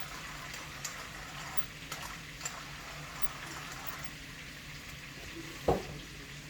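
Vegetables and mushrooms sauté in a pan outdoors at a farm, a faint, even sizzle with a few soft clinks and one brief louder knock near the end.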